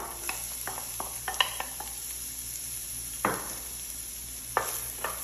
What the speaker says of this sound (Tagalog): naglagay na ako sa pan ng konting oil at add ko na itong hiniwa kong onion